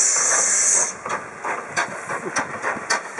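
A loud steady hiss of escaping steam from a Stanley Steamer car on ice, breaking after a second into sputtering, chuffing bursts that pulse irregularly like a locomotive.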